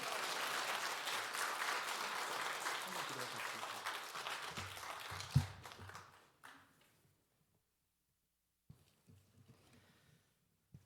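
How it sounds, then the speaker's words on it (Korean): Church congregation at a New Year revival service applauding a pastor, a steady wash of clapping that stops abruptly around six seconds, followed by near silence with faint stray taps and rustles. "다시 한번 박수하겠습니다."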